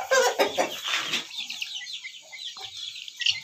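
A large breeder rooster clucks several times close by, short throaty calls in a quick burst, then quieter clucking with faint background noise.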